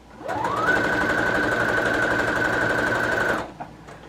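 A sewing machine stitching a straight seam on a homemade curtain, running at a steady fast whirring rhythm for about three seconds before stopping, close and alone.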